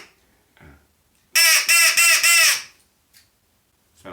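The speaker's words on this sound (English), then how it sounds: "Don't think it sounds very good as a crow call" An Acme crow call is blown in a short run of four nasal, buzzy honking caws close to the mic, with faint breathy puffs and small clicks in the quiet before and after.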